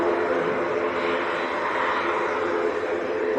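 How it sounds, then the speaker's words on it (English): Ryanair airliner on the runway at Leeds Bradford Airport. A steady, moderately loud engine roar holds evenly throughout, with no clear talking. "Ryanair taking it short again"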